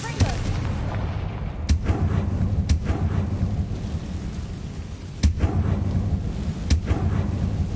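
A Confringo blast spell explodes in Hogwarts Legacy, heavy booming blasts with sharp cracks recurring several times over a dense rumbling background, loud and close.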